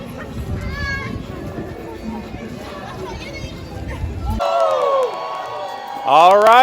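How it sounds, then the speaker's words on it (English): Large crowd outdoors behind a Moscow shopping mall at the New Year countdown, a dense roar of chatter turning into loud cheering and high screams that swell sharply near the end. "Everyone's starting to scream."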